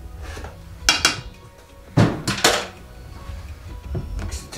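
Jamaican fruit cake batter being mixed in a bowl, with a spoon scraping and knocking against the bowl in several sharp clinks and clatters, some grouped in quick pairs, close by with no talk.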